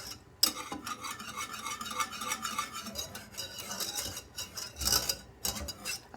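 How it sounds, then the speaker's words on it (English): A spoon scrapes around the sides, bottom and corners of a pot of German chocolate cake icing cooking on the stove, producing a continuous close scraping and stirring with occasional sharper knocks against the pot. "I do this scraping the sides, the bottom, the little corners,"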